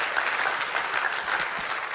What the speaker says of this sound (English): Give him a big round of applause for his hard work.